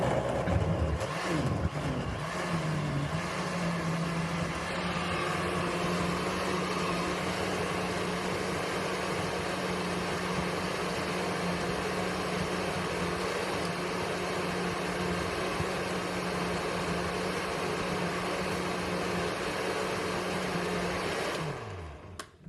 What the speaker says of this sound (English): Take it right here to the blender. Start it off on low.